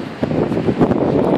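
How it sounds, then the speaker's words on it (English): Breezy late-afternoon wind gusts over a swinging bridge high above a river, a steady rushing buffet of air with soft rising and falling surges, close to the microphone, with no talking. "Real breezy, you know, late afternoon"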